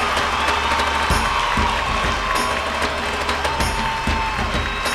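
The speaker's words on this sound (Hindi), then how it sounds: "बिहार की रीमा वर्मा रांची से जोरदार ताली से स्वागत करें।" Studio audience at a Bhojpuri music competition show applauding and cheering as a female singer is welcomed, a continuous loud crowd of clapping and shouts throughout.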